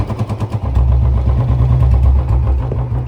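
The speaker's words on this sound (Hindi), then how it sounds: "सिर्फ यहाँ से साउंड थोड़ी लीक हो रही है इंजन की।" A Royal Enfield Bullet 350 single-cylinder motorcycle engine idles loud and close, a steady thumping beat with a slight exhaust leak, opening with a few uneven pulses before settling into a rapid, even chug.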